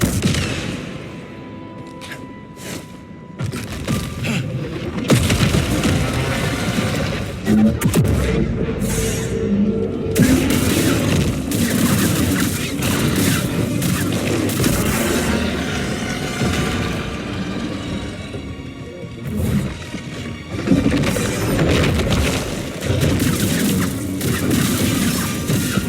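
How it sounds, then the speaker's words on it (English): Grenade explosions in Star Wars Jedi: Survivor, heavy booms with crashing, shattering debris spread across a long, loud stretch of combat, with several sharp bursts standing out among rumbling noise. "Grenade prime."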